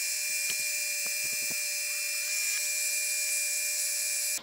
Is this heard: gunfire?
no